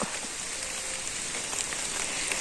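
Steady rain patters on foliage and surfaces in a rubber plantation, a continuous close hiss with scattered drips and no voices.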